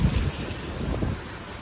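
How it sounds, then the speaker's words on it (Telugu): Heavy summer rain driven by strong wind, a dense continuous roar of downpour and gusts close to the microphone, with no voices. "సో వాన మాత్రం చాలా దారుణమైన వాన"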